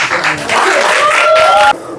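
Audience applause at a law forum event in Korea, a dense burst of clapping that runs steadily for nearly two seconds before cutting off, with a faint sustained tone threading through it.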